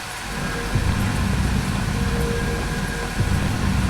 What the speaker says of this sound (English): The train's there.